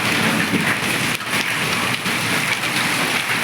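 Hailstones pelting down along with heavy rain in Ganjam district, Odisha: a loud, dense, steady hiss of impacts that continues without pause, close by and with no voices.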